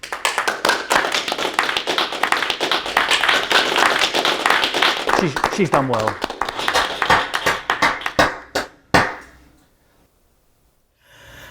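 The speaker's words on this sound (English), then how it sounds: "Can we get a clap for the NHS?" A crowd applauding the NHS, sustained clapping and some taps that thin out and stop near the end, followed by near silence.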